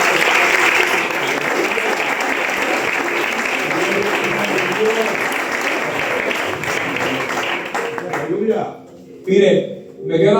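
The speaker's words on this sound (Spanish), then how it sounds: "Vamos a darle un aplauso al Señor." A church congregation applauds loudly and steadily for several seconds, then the clapping breaks off and a voice comes in over the last moments.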